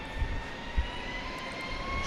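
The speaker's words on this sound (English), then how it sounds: "I hear a plane taking off." A plane taking off at Dallas Love Field at night makes a faint, distant, steady engine roar. It carries on evenly with no other sounds over it.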